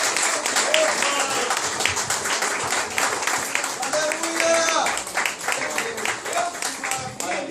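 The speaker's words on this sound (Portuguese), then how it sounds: "Com uma salva de palmas, eu peço à igreja, junte as mãos aí, pelo menos um minuto" Church congregation applauding together in a sustained loud round of clapping, with voices and shouts mixed in throughout.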